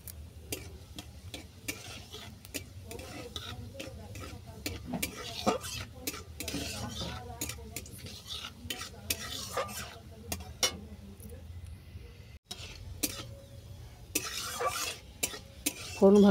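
Black cumin and dried chillies crackle faintly in hot oil, a low, quiet sizzle broken by scattered clinks and scrapes of a utensil against the pan throughout.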